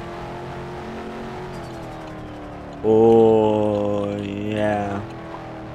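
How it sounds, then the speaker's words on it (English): Car drifting in the Roblox game Taxi Boss, a McLaren, with a steady engine hum that jumps to a loud, rising rev and screech for about two seconds, then fades, with a brief spoken remark over it. "I'm drifting."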